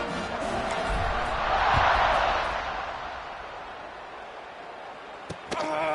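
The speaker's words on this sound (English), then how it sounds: "this crowd is buzzing after that last score" A stadium crowd buzzes after a score in a college football video game, a broad roar that swells and then fades, ending with a couple of sharp thuds.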